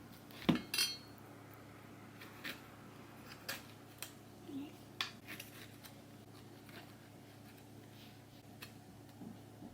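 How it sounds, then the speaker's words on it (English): Knife cutting the eyes out of a halved pineapple, a soft series of small cuts, taps and clinks scattered irregularly over a quiet background, with one sharper knock near the start. "I actually like to just slice this in half and then cut out the eyelets diagonally."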